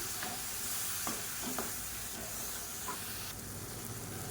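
Blended tomato paste and chopped ingredients sautéing in a pan for a South Indian egg curry, giving a steady close sizzle with a few soft stirring scrapes and no talking.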